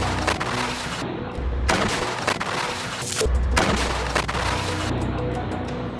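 Rocket and gunfire attack on Israeli military vehicles and Merkava tanks on a street east of Rafah. Dense, continuous bursts of gunfire and booms keep up throughout, loud and chaotic, with heavier thuds landing at intervals.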